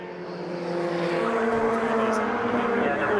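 Lotus Elise race cars roar past on the Castle Combe circuit, a loud sustained engine drone that swells as a pack goes by, with a commentator talking over it.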